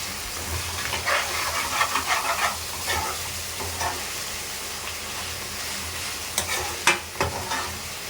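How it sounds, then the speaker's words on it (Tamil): Prawns and onions sautéing in a pan, a constant close sizzle and hiss broken by stirring scrapes and sharp clatters, with no talk. "இதையும் இந்த வெங்காயம் கூடயே சேர்த்து நல்லா வதக்கலாம்"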